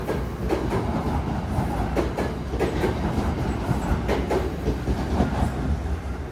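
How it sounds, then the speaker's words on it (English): An old commuter train rolls past at a New Jersey station, a steady loud rumble with dense clickety-clack of wheels over rail joints and brief metallic squeals, no talk. "These old trains accelerate really fast."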